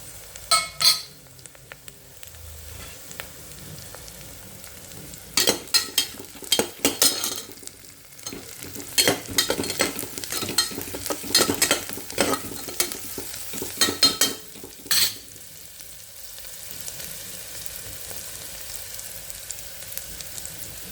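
A spice tempering with onion, garlic and curry leaves frying in a pan, loud bursts of clattering stirring over a constant crackling sizzle, with quieter stretches between the stirring spells.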